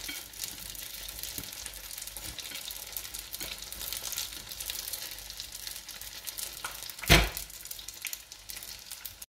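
Chicken spring rolls deep-frying in hot oil at their first cooking stage, a steady dense sizzle and crackle throughout with one brief louder clatter near the end.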